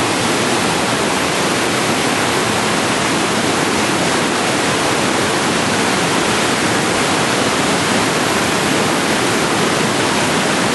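Niagara's American Falls roars steadily as a loud, continuous broadband wash of falling water, dense and unbroken throughout with no voices.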